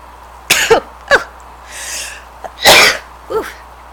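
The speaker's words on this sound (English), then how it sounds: "sneezing fit, apologies" A rapid fit of sneezes and explosive coughs, about five sharp bursts close up over a few seconds, with quick breaths between them.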